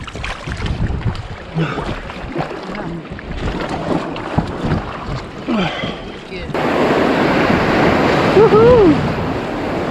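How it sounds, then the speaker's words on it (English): River water splashes and swirls around people floating down the River Pai in Thailand, with close sloshing that grows louder toward the end, while voices talk and call out over it. "We are just floating down the River Pai."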